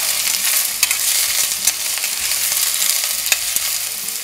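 Chopped large onion sautéing in hot oil inside a pressure cooker, a steady close sizzle and frying hiss with occasional stirring scrapes and pops, no talking.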